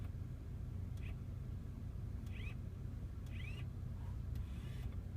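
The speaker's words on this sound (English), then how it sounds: "They're little tiny actuators in the car for the flaps." Inside a Bentley Brooklands cabin, tiny climate control servo actuators driving the air flaps give four brief, faint whirring chirps spaced about a second apart over a low steady background rumble.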